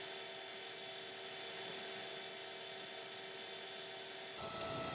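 A 2x72 belt grinder rounding over the edges of straight razor scales, a steady high-pitched whine with a continuous abrasive hiss whose tone shifts briefly near the end.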